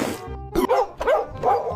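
A dog gives short, yappy barks and whimpering vocal bursts in quick succession, close and fairly loud, with no talk.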